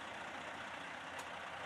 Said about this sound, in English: You can hear the truck just started up.